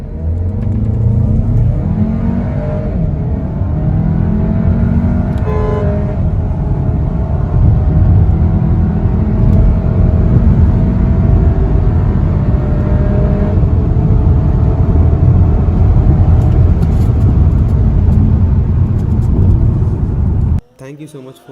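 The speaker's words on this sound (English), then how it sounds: "So let's do my favorite part now, 0 to 100 acceleration." A Volkswagen Tiguan Allspace with a 2.0 TSI engine accelerates from 0 to 100, and the engine and road rumble builds loud and sustained for about twenty seconds before cutting off sharply.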